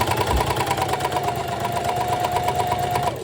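A sewing machine stitches free motion embroidery with a fast, steady mechanical whir and a rapid needle chatter that run continuously for a few seconds, close and fairly loud with no talking.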